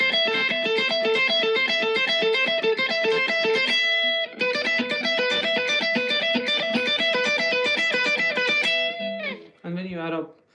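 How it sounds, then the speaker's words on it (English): An electric instrument played through a distortion effect, a dense run of sustained, gritty repeating notes that pauses briefly near four seconds, then continues loud and steady before breaking into a few short bursts at the end. "when you add up distortion to this, it sounds more juicy"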